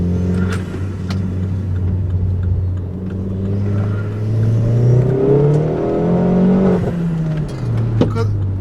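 A forged Vauxhall Corsa VXR engine pulls hard from inside the cabin, its steady low drone rising and falling through the gears, loud and close, with an occasional voice over it.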